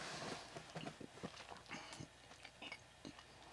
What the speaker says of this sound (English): I bet you're hearing me chew my Starburst through my new microphone